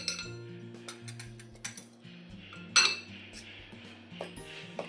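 A spoon clinks and scrapes against a bowl while jaggery and semolina sanjori filling is mixed with nutmeg powder, giving scattered light metallic taps and chinks, close and quiet.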